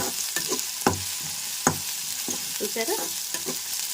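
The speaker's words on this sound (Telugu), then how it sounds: "ఇదిగోండి ఆయిల్లో చక్కగా దోరగా వేయాలన్నమాట" Garlic cloves and green chillies fry in hot oil with a continuous bright sizzle, punctuated by a few scraping strokes and clacks of a spatula, close by; a brief spoken word comes over it.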